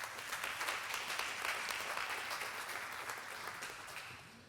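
An audience at a Sukkot midrash teaching claps steadily for several seconds, a dense, moderately distant patter of applause that tapers slightly at the end.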